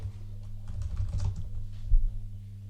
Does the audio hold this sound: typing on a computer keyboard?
yes